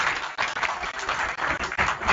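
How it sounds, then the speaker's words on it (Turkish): Audience applause at a ceremony in Üsküdar, İstanbul, a steady wash of clapping from a crowd with short dips, sustained throughout. "Sayın Saadettin Karaca Başkanımızı da kuvvetli bir şekilde alkışlayalım"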